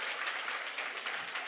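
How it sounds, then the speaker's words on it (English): Dense, continuous applause from a youth audience at a corporate event, a steady wash of many hands clapping together, fairly loud and close, with no pause for its short duration. "Please give yourself a round of applause."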